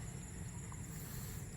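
Rain falls steadily in continuous, even patter and hiss, with no breaks and no talk, moderately loud throughout.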